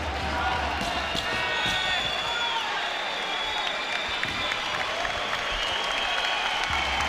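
A large crowd cheers and applauds athletes during a women's race heat at a regional competition, a steady loud roar of voices and clapping filling the whole stretch.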